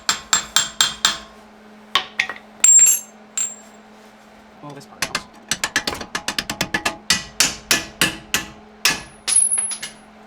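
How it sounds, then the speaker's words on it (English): Sharp metallic hammer blows strike the lower control arm during suspension work on a Toyota Avalon. The strikes come in quick bursts of rapid, ringing hits, close and loud, with brief pauses and a short remark spoken between them. "A lot of suspension work is just hammers."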